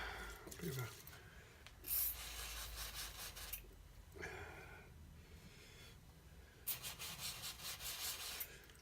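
Close, rhythmic rubbing strokes of fine sandpaper on a Laurona Eibar shotgun's firing pin in several bursts, with brief quiet gaps between them.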